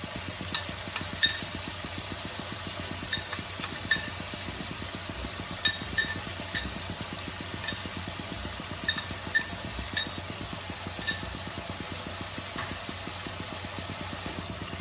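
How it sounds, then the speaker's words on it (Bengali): Spice paste with tomato puree fries in oil in a pan, a steady soft sizzle broken by occasional light clinks and scrapes of a spoon stirring, with no voices. "মশলাটাকে আমি ততক্ষণ ভাজবো যতক্ষণ তেল ছেড়ে না আসছে"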